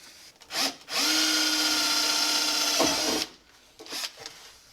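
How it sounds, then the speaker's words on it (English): A power drill fitted with a stub drill bit whines steadily for about two seconds as it bores into a vehicle body while a traditional headliner is fitted, close and loud, with brief shorter bursts before and after. "I'm using stub drills. They are, as they say, very stubby."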